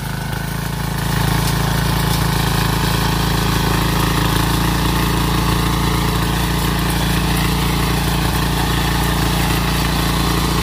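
A loud 5 hp diesel power weeder with a 2.5-foot rotary tiller drones steadily, close by, with a constant low rumble and rattling mechanical noise throughout.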